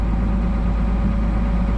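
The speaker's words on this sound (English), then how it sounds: "Tractor's just warming up, and then we'll be on the road." A tractor engine idles while it warms up, giving a steady, loud, low rumble close by with no other sounds.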